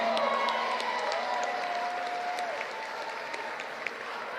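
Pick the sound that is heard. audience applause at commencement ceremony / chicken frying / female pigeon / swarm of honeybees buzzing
audience applause at commencement ceremony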